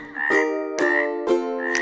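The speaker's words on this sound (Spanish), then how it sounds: "la rana hace" A frog croaks three times in quick succession, each call a loud, nasal, buzzy ribbit with a sharp onset, repeating about every half second and heard close and alone.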